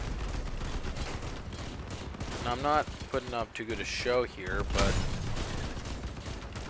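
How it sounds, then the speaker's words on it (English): Rapid machine-gun bursts and cannon blasts from armored vehicles in the Crossout combat game, loud and dense, crackling under a voice as he talks. "I'm getting absolutely shredded by these dudes with machine guns."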